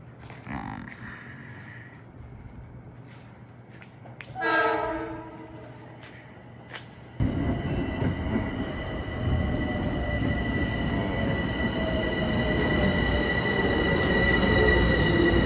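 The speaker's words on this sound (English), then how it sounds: "comes the train arriving" A Metro-North commuter train pulls in with a horn blast, then a rising rumble and squealing wheels grow loud and steady as it rolls into the station.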